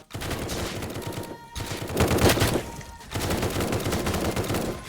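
Rapid bursts of gunfire from a guard's weapon in a Squid Game video game, loud and sustained in two long volleys separated by brief pauses, with no talk over it.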